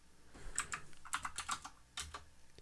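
Computer keyboard typing out a short directory-listing command for a node modules folder, quiet close key taps in quick uneven bursts with a brief pause before the last few strokes.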